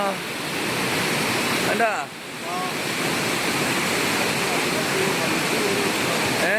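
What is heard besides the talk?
rushing flood water under Chamaravattam bridge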